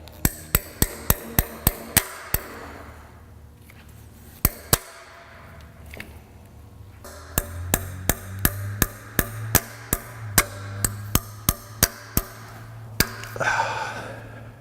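Hammer blows striking a wrench to loosen tight cylinder head bolts on a 302 engine: sharp metallic impacts in quick rhythmic series, close and loud, with a short pause midway.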